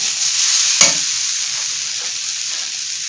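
Onion kachori filling frying in a pan gives a steady close sizzle with a single sharp clink of a spoon partway through, no voices.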